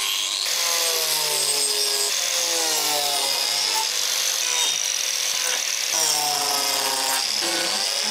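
Angle grinder fitted with a wood-cutting disc slicing through wood, a loud, steady high-pitched whine with a rasping, tearing edge lasting throughout, slight pitch dips as the blade bites deeper.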